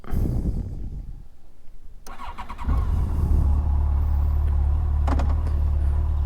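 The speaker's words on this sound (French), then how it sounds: "quand on la met en route, le bruit est déjà très flatteur. J'aime beaucoup le bruit de cette moto." A Yamaha FJR 1300 ABS motorcycle engine starts up after a short pause, catching abruptly and settling into a loud, steady idle rumble close to the microphone.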